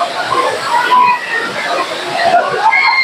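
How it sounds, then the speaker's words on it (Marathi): Water crashes at the Chirma Devi waterfall near Thane as people bathe, a continuous rushing roar that stays close and loud beneath someone talking. "इकडे धबधबा आहे"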